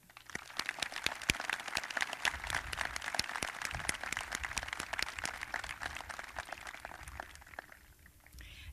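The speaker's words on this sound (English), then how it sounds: "I ask the graduates and all of our guests to join me in applauding the professionals for their competence and dedication." At a high school graduation ceremony, a sparse audience claps in a hall, sharp individual claps scattered over a thin, ongoing patter that fades near the end, heard from a distance.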